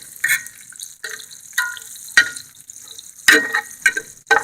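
Bacon fries on a grill, with sharp crackling pops and sizzling bursts arriving every half second or so over a quiet background, close and fairly loud.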